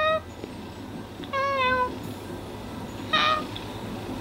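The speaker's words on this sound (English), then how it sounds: "Can you hear him purring?" A pet cat meows several times at close range, with short harmonic calls early, in the middle and near the end, over a low steady hum; purring is not clearly distinct.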